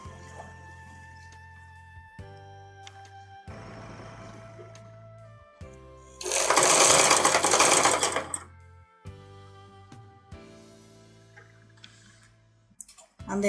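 A sewing machine stitches elastic into a homemade fabric mask, running in short ticking bursts with one louder, sustained whirring run in the middle and pauses between.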